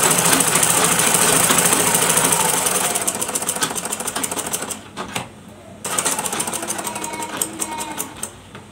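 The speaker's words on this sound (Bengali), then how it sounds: "আরো একটা সেলাই দিয়ে দেখি" A sewing machine stitches fabric with a rapid, loud mechanical rattle that drops in pace, stops briefly, then starts again. The needle runs with a fast clatter close to the listener.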